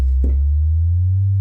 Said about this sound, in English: the first patch is your typical very low in terms of frequencies 808 sound, and let's put a little glide on there